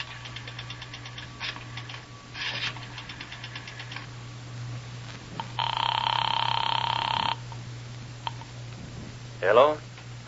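An old-time radio detective drama uses a telephone ringing sound effect: several bursts of a buzzy electric bell, one longer steady ring in the middle, over a low background hum.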